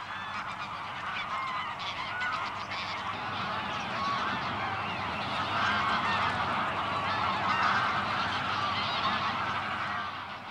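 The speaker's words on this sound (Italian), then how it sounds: "oltre l'oca selvatica, almeno altre 200 specie di uccelli" Dense flock of wild geese honking continuously at Lake Ichkeul, a wetland bird refuge, with overlapping calls forming a loud, steady chorus throughout and no voices.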